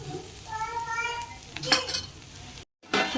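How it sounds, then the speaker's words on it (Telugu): Curry of bitter gourd being stirred in a metal pot, with spoon scrapes and clanks against the sides, then a lid set down with a clear clatter, followed by a brief silence before kitchen sounds return. "ఒకసారి కలుపుకొని మూత పెట్టేసుకుందాం."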